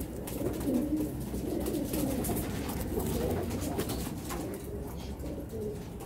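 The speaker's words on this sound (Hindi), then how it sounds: "ये प्योर कबूतर है" A purebred pigeon coos in low, repeated throaty phrases close by, steady throughout over a constant background hum.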